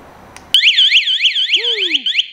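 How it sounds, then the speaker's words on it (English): An ATV's installed security alarm starts abruptly and warbles in a fast repeating up-and-down siren pattern, loud, close and continuous, with a faint chirp beneath. "let them all hear what that alarm sounds like"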